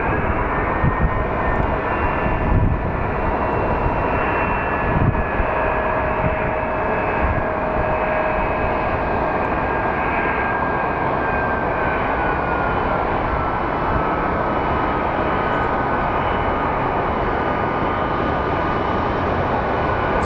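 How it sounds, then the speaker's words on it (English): A Boeing 767-200 jet departs Phoenix Sky Harbor International Airport, its engine roar a steady, broad rumble that holds loud and even for the full span, with a thin whine drifting slowly downward over it. "767-200, I believe, that is going to be departing for Lakeland."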